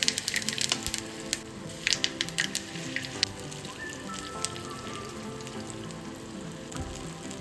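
Instant Gujarati handvo batter hits hot oil with mustard seeds, sesame seeds, asafoetida and curry leaves, giving a steady close sizzle dotted with scattered crackles and seed pops.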